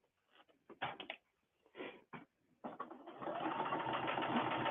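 A sewing machine runs a regular straight stitch through heavy fabric, first in short stop-start bursts, then in a longer continuous whirring run, close and moderately quiet.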